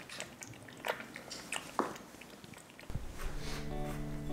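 A kitten chewing and crunching food up close, irregular soft bites and clicks, followed by a steady hum with a person speaking faintly near the end.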